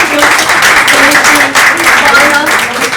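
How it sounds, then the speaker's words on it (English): An indoor audience applauds in appreciation of a hardworking maid, a loud, dense wash of clapping lasting throughout, with voices mixed in beneath. "So big applause to our dear maid."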